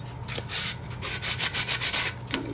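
A skinny tumbler is hand-sanded in short back-and-forth strokes, a dry scratchy rasp that builds into a quick, even series of about six close strokes with no talking.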